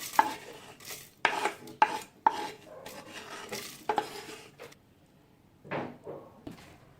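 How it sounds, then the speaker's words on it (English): Roasted paneer being scraped and tipped from a pan into a blender, with clinks of a utensil against metal and soft stirring sounds, then quiet. "So I'm just transferring them into the blender."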